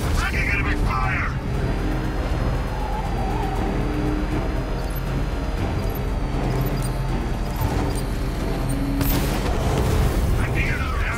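Enemy fire and explosions in the video game Batman Arkham Knight make a continuous loud rumble of booms and mechanical noise, with voices speaking over the din.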